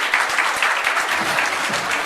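A large audience claps loudly and steadily at a talent-show event, a dense, continuous patter of many hands close by, with no voices rising above it.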